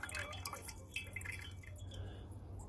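Rinse water poured slowly off silver into a stock pot makes a close, trickling splash with light dripping and faint glassy clinks, a low steady hum underneath and no voices.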